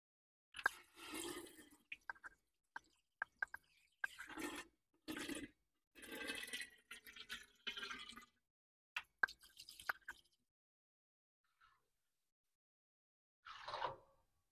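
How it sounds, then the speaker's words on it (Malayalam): Grated potato rinsed by hand in a bowl of water, with quiet, intermittent sloshing and squelching bursts and a long pause near the end. "ചീവിയതിന് ശേഷം നന്നായി ഇത് വെള്ളത്തിൽ ആദ്യം നന്നായിട്ടൊന്ന് കഴുകിയെടുക്കാം"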